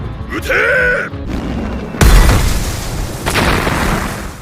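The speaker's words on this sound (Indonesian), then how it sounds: "Dan tank-tank dikerahkan ke medan pertempuran. Mereka menembaki robot raksasa itu" Heavy booming tank cannon blasts and explosions, with a deep rumbling impact midway followed by sustained roaring debris noise.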